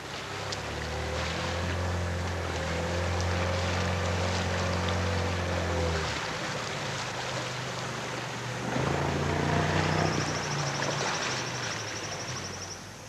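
A boat's outboard motor hums steadily on a flooded forest stream, cutting out partway through as the motor is raised, then droning again under wind and water wash.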